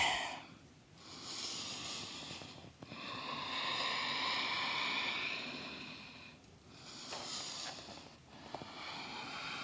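Slow, deep breaths move through a yoga vinyasa flow, each long airy inhale and exhale rising and falling in a calm, close, quiet rhythm, about three full cycles.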